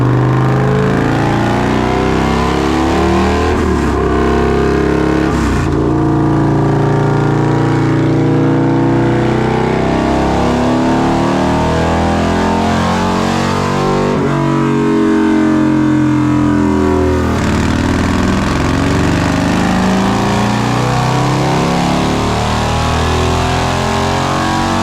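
A Harley-Davidson Milwaukee 8 131 V-twin runs on a dyno with an aftermarket exhaust, a loud continuous engine roar that climbs through repeated revs, dropping briefly between pulls, with no talk over it.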